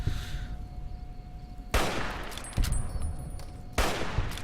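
Gunshots ring out in the Fallout: New Vegas video game, three sharp, loud cracks spaced about a second apart, each followed by a short decaying tail over a quiet background.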